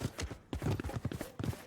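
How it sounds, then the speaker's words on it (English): Footsteps in the video game Valorant, a quick run of rhythmic thuds in short bursts, close and fairly loud, with a brief pause partway through. "DRX hears the footsteps and they completely back off"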